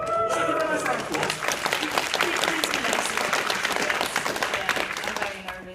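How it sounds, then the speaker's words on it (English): A comic con industry panel audience breaks into dense, loud applause that keeps going steadily for several seconds before easing slightly at the end, with faint voices mixed in. "So give her a nice round of applause"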